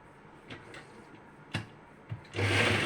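Sewing machine stitching the shoulder seam of a sleeveless front-pleated nightie, with a few faint taps and handling sounds before a loud, steady burst of motor stitching starts near the end.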